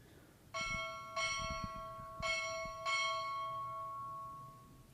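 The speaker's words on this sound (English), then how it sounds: "strike 4 bells" A ship's bell at a Navy boot camp graduation ceremony rings four times in two quick pairs, each strike clear and resonant with a lingering ring, against a quiet room.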